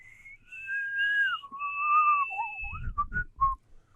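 A person whistles a short, wandering melody, clear and close, with sliding pitches and a few quick notes at the end.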